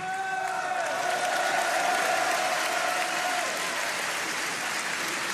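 A large audience at a political rally applauds loudly and continuously, a dense wash of claps with a faint held tone sounding briefly through it.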